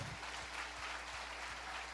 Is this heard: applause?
yes